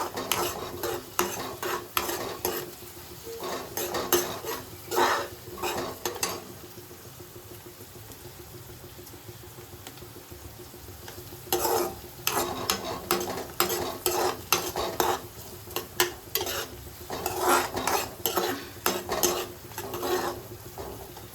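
Vegetables for masala Maggi sautéing in a pan: a soft continuous sizzle runs underneath while a spoon scrapes and clatters against the pan in bursts of stirring, with a quieter pause in the middle before the stirring resumes.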